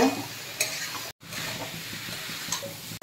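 Fried potato and watermelon pieces are stirred and sautéed in masala, a continuous close sizzle with scraping spoon strokes against the pan and one brief silent gap.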